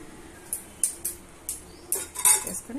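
A spoon scrapes and clinks against a pot while pappu charu lentil soup is stirred, giving a series of sharp metallic taps and scrapes at an irregular rhythm, close and clear with no talking.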